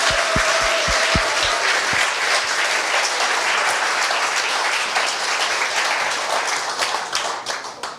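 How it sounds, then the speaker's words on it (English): An audience breaks into warm, sustained applause for a bootcamp batch at a demo day in Amsterdam. A few sharp claps come near the start, then a dense wash of clapping gradually fades out. "I would like to ask for a warm round of applause for batch 126"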